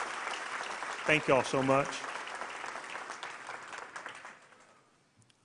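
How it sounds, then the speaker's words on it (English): Graduation crowd applauding teachers, steady clapping with a voice speaking briefly over it near the start, then the applause gradually dies away to near silence. "let's give them another round of applause for making this year possible"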